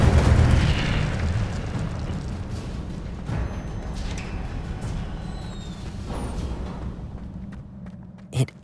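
In Hogwarts Legacy, the Incendio fire spell explodes in a loud, booming burst that fades into a long, roaring rumble. A sharp crack comes near the end.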